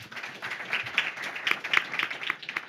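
A small audience at a public round table on regional energy-renovation aid in Nantes claps briefly, with sparse, uneven hand claps that are fairly close and quiet, some individual claps standing out.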